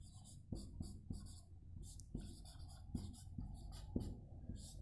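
A pen scratches across paper while a maths solution is written out by hand, a faint, close scratching in short irregular strokes and taps with soft room noise.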